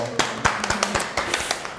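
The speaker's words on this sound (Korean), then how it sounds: "박수 한번 보낼까요?" A high school audience claps in a brief burst of scattered, uneven hand claps, with voices faintly beneath.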